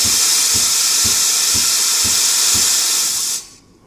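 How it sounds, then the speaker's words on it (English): Steam blasts loudly and steadily from an espresso machine's steam wand, an intense close hiss with faint rhythmic pulsing that cuts off abruptly near the end. "So for 30 seconds or for a few seconds, let the steam come out."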